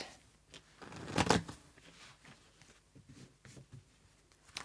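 A quick burst of tarot cards riffling together near the start, followed by quieter soft shuffling and light handling sounds.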